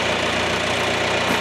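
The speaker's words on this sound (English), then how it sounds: "just getting the tractor started and letting it warm up" A farm tractor engine idles steadily to warm up before feeding a Charolais cattle herd on pasture, a continuous, loud, even rumble with no talking.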